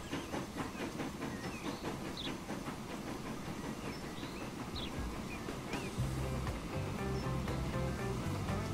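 A train running in the Transport Fever game rolls along with a steady hiss and rumble, light rhythmic clicking over the rails and brief higher squeals, continuous and fairly close, with no talking.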